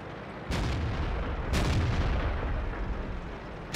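Two loud, close cannon shots from an M24 Chaffee tank in a video game, about a second apart, each a sharp blast with a rumbling decay.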